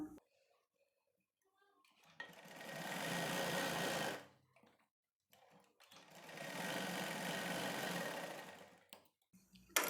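Sewing machine stitching the shoulder seam of a blouse, two sustained bursts of fast whirring a few seconds each, close and fairly loud, separated by quiet pauses with light handling clicks.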